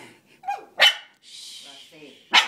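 A dog gives two sharp barks close by, separated by a whining, growly sound, with a person speaking briefly between them indoors near a Christmas tree.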